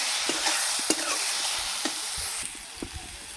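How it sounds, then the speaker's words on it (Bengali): Turmeric, chili powder and cumin powder fry in hot oil in a pan for a spicy soya chilli dish, giving a steady close sizzle broken by several scraping stirs of a spoon. "1 চামচ লঙ্কার গুঁড়ো, 1 চামচ জিরে গুঁড়ো দিয়ে ভালো করে মশলাটাকে"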